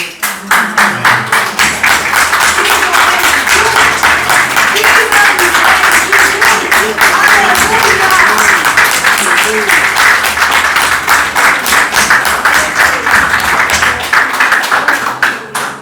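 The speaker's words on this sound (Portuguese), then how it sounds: "Mas Jesus merece uma salva de palmas mais forte." A church congregation at an Easter celebration service applauds with steady, dense clapping. The clapping is loud and sustained throughout, with a rhythmic pulse and voices mixed in.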